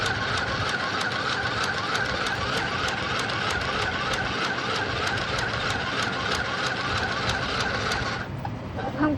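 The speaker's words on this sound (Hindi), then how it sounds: "क्या स्पीड में वही कपड़ा सिल रहा है।" A sewing machine stitches a nightie, running steadily at high speed with a fast, even mechanical rhythm. It stays close and fairly loud, then stops abruptly near the end.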